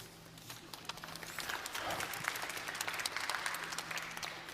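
An audience at a Global Resilience Day launch at World Expo in Dubai breaks into applause during a speech, a rustling wash of many hands that swells and holds, faint and distant, with no talking over it.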